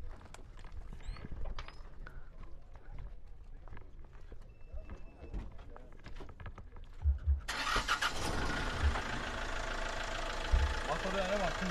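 A Hyundai Porter 2 truck: quiet clicks and shuffling inside the cab, then the engine cranks and catches, settling into a loud, close, steady running idle.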